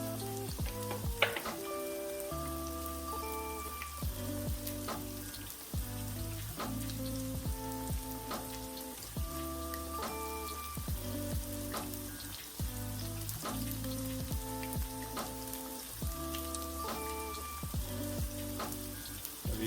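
Coconut shrimp frying in a pan: steady, dense sizzle and crackle with scattered pops and spits, continuous and close throughout, no voices.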